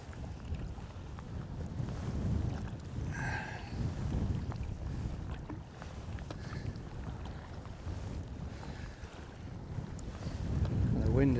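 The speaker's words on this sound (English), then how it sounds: "The wind has certainly picked up." Strong wind buffeting the microphone at Ardnamurchan Point on the Scottish coast, a continuous low rumbling roar that swells and eases throughout, with a faint sea-like wash behind it.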